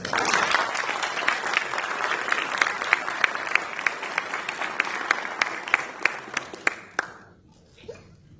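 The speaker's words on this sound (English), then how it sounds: "One more round of applause, please." Audience applause at a Navy master chief's retirement ceremony, a full round of clapping that thins into a few distinct, separate claps before fading out, with faint chuckles underneath.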